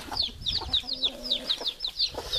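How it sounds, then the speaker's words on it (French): A rooster and hens with chicks cluck in a permaculture vegetable garden, giving a steady run of close, repeated clucks at a quick, even rhythm. "Le coq qui a voulu saillir une poule qui a déjà des poussins"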